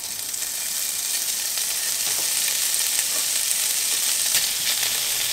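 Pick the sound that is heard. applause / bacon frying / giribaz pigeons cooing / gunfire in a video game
bacon frying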